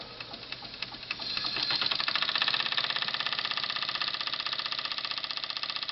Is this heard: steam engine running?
yes